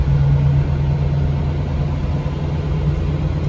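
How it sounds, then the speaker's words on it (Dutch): Route 191 bus pulling into a stop at Rums bus station, its engine rumbling loud and steady and close by the whole time with a low hum, no talking over it. "Daar komt de bus en dat ga je niet mee."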